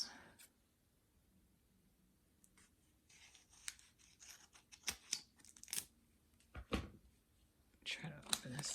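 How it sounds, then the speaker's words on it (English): Crinkling and tearing of plastic wrapping as a package of note cards is pulled open, quiet at first then busier rustles and sharp crackles toward the end, close by with soft speech now and then. "Let me try to open this."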